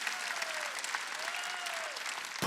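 A church congregation at a Wednesday worship service claps steadily, a dense patter of many hands running for a couple of seconds, with a faint sustained tone gliding beneath.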